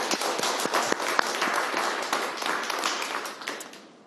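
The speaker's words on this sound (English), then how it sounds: "Can we have a round of applause for this?" Applause from a ceremony audience: a dense, steady round of clapping that fills the whole stretch, loud and close, then begins to thin out toward the end.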